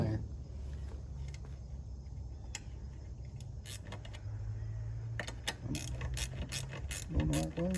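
A wrench works a bolt on a lawn mower aerator, giving repeated metallic ratchet clicks and clanks at close range over a steady low mechanical hum.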